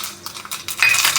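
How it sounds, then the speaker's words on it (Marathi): Mustard seeds hit a spoonful of hot oil in a small pan for a tempering, giving a quick burst of sharp, scattered crackles and pops up close. "आता आपण राई फोडणी देऊया"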